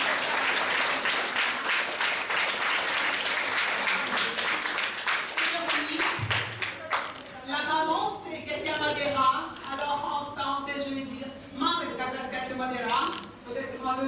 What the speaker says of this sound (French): nous applaudissons, s'il vous plaît.